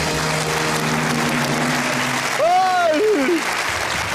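Loud studio audience applause at a quiz show fills the space while a voice speaks over the clapping.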